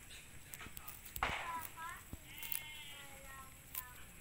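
Goats on a farm in the province bleat a few times, soft and somewhat distant, amid rustling, scattered knocks and footsteps, with faint voices in the background.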